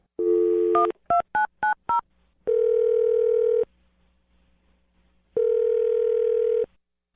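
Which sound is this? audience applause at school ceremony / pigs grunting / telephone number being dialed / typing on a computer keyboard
telephone number being dialed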